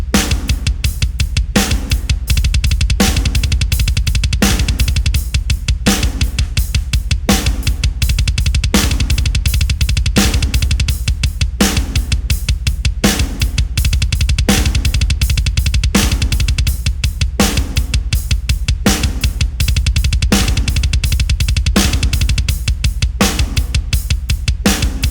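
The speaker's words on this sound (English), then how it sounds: "This first one here is playing 2 beats of alternating 16th notes going into the double stroke roll" A drum exercise of alternating 16th notes flowing into a heel-toe double stroke roll on the bass drum: a fast, steady, unbroken stream of close, punchy kick hits repeating evenly for about twenty-five seconds.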